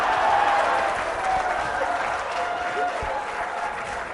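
A crowd of young people in a studio audience at a Pakistani political talk show claps and cheers steadily for several seconds, a dense continuous wash of applause with hooting.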